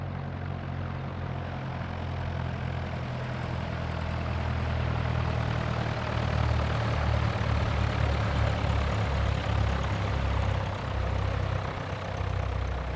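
A simulated Cessna 172 piston engine and propeller from the AirFoil Labs add-on for X-Plane 10, taxiing at low power: a continuous, loud, rumbling low drone with a steady throb that holds for the whole stretch, no voices over it.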